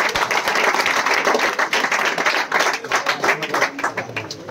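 Applause for the trophy donors at an award ceremony: a crowd clapping steadily and loudly throughout, with a few stray voices under it.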